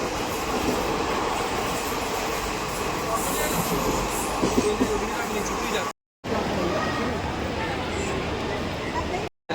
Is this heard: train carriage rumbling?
yes